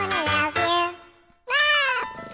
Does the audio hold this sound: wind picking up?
no